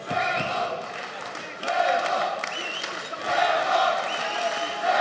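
An indoor crowd at an MMA fight gala roars and cheers in waves that swell and fall, with an announcer's voice carrying over it.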